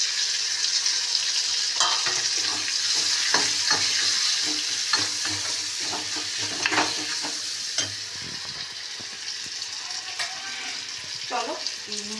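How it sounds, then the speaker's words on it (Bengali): Turmeric, chili powder and salt frying in a pan for a fish curry, a loud steady sizzle with repeated scraping stir strokes of a spatula, close up and without talk. "চলো মশলাটা ভালোভাবে ভেজে নিই।"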